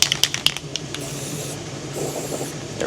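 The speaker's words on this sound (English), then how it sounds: "Rattle can action, Rust-Oleum high performances." A Rust-Oleum High Performance spray paint rattle can gets a few quick ball rattles, then sprays in a continuous close hiss that runs to the end with a slight pulse.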